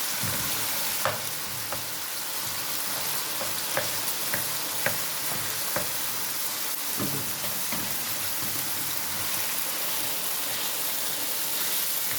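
Potatoes frying in a garlic and tomato sauce with chili, an Egyptian-style dish, give a steady close sizzle throughout, with scattered clinks and scrapes of a utensil stirring the pan; no one speaks.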